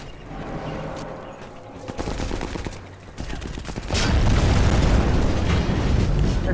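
Sniper Elite 4 co-op gunfire crackles in rapid bursts before a vehicle explodes into a loud, sustained roaring blast about four seconds in, staying dense and close to the end.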